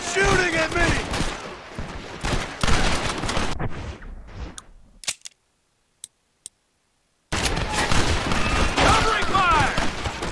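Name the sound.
gunfire in Red Dead Redemption video game battle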